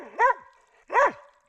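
A dog on the Appalachian Trail gives two distinct, fairly close barks about a second apart, each short and yelping, with quiet outdoor air between and after them.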